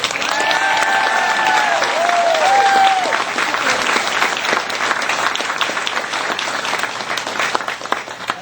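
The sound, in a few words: graduation audience applause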